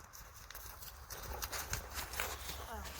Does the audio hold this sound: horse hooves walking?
yes